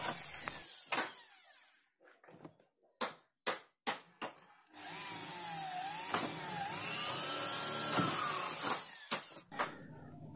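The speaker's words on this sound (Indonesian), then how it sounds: "kembali kita bor lagi" An electric drill boring a hole, with a few short bursts of the motor first and then one longer, steady run whose pitch sags and recovers as the bit bites, recorded close with no talk.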